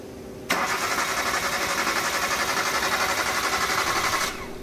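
A car engine cranking and firing, a sudden loud starter whir that runs rhythmically for several seconds at close range before cutting off as the engine catches.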